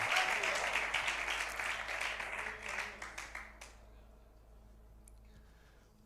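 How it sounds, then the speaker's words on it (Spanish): Congregation applause in a church during a sermon: a room of people clapping for a few seconds, tapering off and ending abruptly, then a quiet hum with a faint voice afterward. "Dale un aplauso a Dios."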